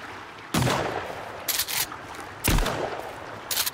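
Shotgun fired in Sons of the Forest: loud, sharp blasts, about four at irregular intervals, each with a short booming tail, no voices.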